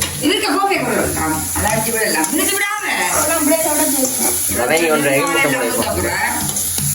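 Food sautéing in a pan during home cooking in Jaffna, with a steady, soft sizzle running under continuous talk throughout.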